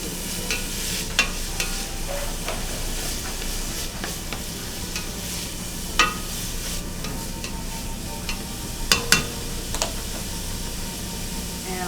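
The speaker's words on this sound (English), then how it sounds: "put a little garlic in there. We'll keep it stirred so our garlic doesn't, so our garlic doesn't burn" Onion and garlic sauté in a pan with a steady, close frying sizzle, broken by several sharp clacks and scrapes as a utensil stirs and taps against the pan; no one speaks.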